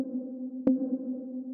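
Unpitched countdown sound effect played at its original note: a steady electronic tone with a single short blip partway through, heard alone.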